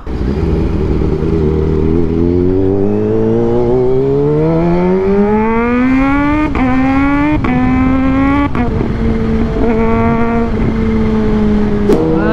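A Kawasaki Z H2 motorcycle engine revs hard and loud, its pitch climbing steadily for several seconds. It then snaps through a few sharp gear-change drops and settles into a steady high drone, heard up close with no talking.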